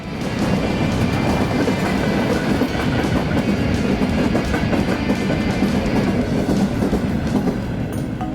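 A very long freight train loaded with automobiles rolls past close by, producing a continuous loud rumble with rhythmic clickety-clack of wheels over rail joints and no pauses.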